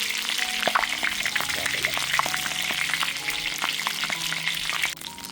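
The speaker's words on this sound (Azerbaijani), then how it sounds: "Dananın maçasını hər tərəfli belə yaxşı qızardırırız" Beef and potatoes fry in a pan with a dense, continuous sizzle. Scattered scraping and clinking from turning the meat come through, and the sound drops slightly in the final half-second.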